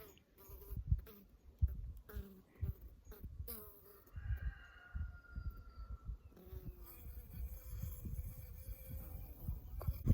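A drone honeybee buzzes close by in irregular bursts as it tries to take flight, its wings whirring on and off with short pauses between.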